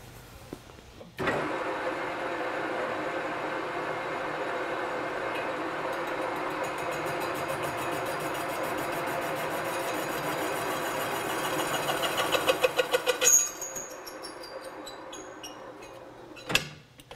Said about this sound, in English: So we're going to take a surface cut on the perimeter of that insert.